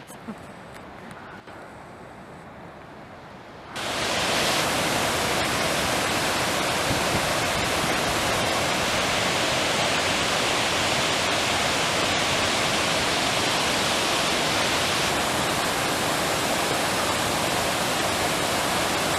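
A mountain creek in the Sawtooth Mountains on an alpine backpacking route, a dense continuous rush of water that starts quieter and then swells loud and steady, as if heard from close beside it.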